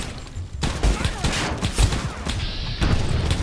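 Loud bursts of rapid video game gunfire from a gun with heavy recoil, clustered shots booming close and continuous across the moment, with a voice talking over the shooting.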